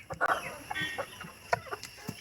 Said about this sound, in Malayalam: നമ്മുടെ കോഴിക്കൂട് കേട്ടോ. കോഴിനെ തുറന്നു വിടുന്ന അച്ഛനാണ്